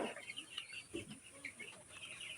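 Chickens in a poultry farm shed cluck and chirp in faint, scattered calls over a low steady background hum, with a few slightly louder bursts.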